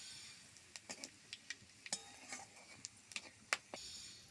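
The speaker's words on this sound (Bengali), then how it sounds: "এখানে আছে গোটা জিরে, শুকনো লঙ্কা, তেজপাতা, গোটা গরম মশলা আর গোলমরিচ দিয়ে দিচ্ছি ফোড়নে।" Whole cumin, dried chilli, bay leaf, whole garam masala and peppercorns in hot oil for a Bengali yogurt chicken, with a soft sizzle under scattered clinks and scrapes of a spoon stirring the pan.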